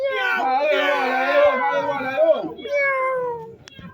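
A cat gives a long, drawn-out meow that rises and falls, then a shorter second meow, loud and close.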